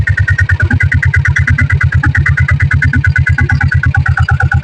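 A diesel Royal Enfield Bullet motorcycle with electric self-start runs close and loud, its engine thumping in a fast, even idle rhythm throughout.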